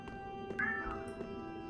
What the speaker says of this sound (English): My kitty's on my chair.